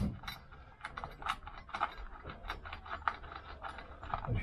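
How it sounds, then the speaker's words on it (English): A ratchet tightening screws on a Vespa PX engine during a rebuild, a rapid run of close, fairly quiet clicking strokes. "I'll just tighten up the screws."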